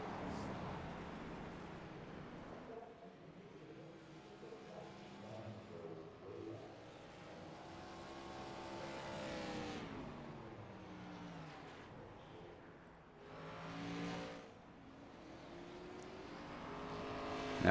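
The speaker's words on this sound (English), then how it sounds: "No damage on that Chad Bremer USA SRX car number 5 in this field." An SRX stock-style race car runs laps on the Williams Grove dirt track, engine revving in rising and falling waves, fairly distant and steady with other cars sweeping past.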